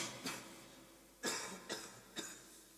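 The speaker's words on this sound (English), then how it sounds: "I've been coughing a lot this morning" A person coughing four times in short, separate bursts spread across a quiet room, close and moderately loud, with no speech.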